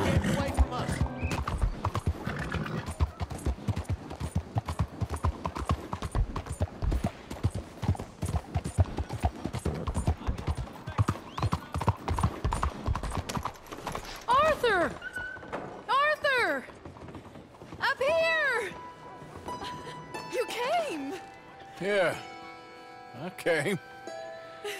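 Horse hooves clip-clop steadily in Red Dead Redemption 2, a rapid rhythmic gallop for over half the clip, then slower thuds with neighing and whinnying while someone talks over the game sounds.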